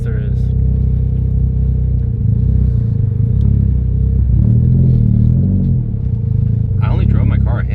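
Tuned 550 WHP Mitsubishi Evo X engine running on a dyno, a loud continuous low rumble with rising and falling rev tones, voices talking faintly underneath.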